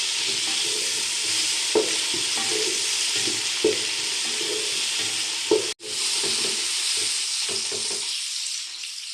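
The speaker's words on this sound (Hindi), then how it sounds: "टमाटर हमने इसमें ऐड कर दिए और इसको अच्छे तरीके से भून लेते हैं" Chopped tomatoes fry for a beef trotters curry, giving a constant loud sizzle with occasional scrapes of a stirring spoon against the pan. The sizzle quiets toward the end.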